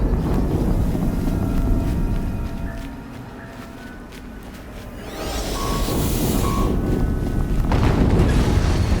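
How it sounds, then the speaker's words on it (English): An explosion in the video game Horizon Zero Dawn rises midway as a heavy, roaring boom that swells and lingers among rumbling game ambience. "Another explosion."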